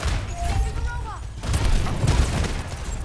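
Rapid bursts of gunfire from a hero shooter game, a quick volley early on and then a denser, louder stretch of shots and booms, with a voice speaking over the action.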